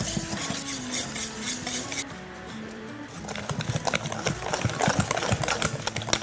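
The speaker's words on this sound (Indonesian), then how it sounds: "Ini bahan lainnya kita aduk aja jadi satu." Egg yolks, hot milk and other ingredients are stirred together in a bowl, making a rapid, close scraping clatter that drops briefly around the middle, then returns louder and busier.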